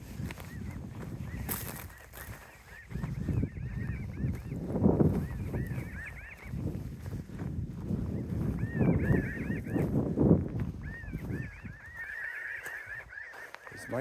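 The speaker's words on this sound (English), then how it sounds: "This might be blue jays, some kind of winter bird." Loud honking bird calls repeat in bursts beside a barbed wire fence in winter, close by and agitated, over a steady outdoor background.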